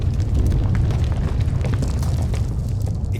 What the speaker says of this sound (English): the explosion triggered a chain reaction in the planet's core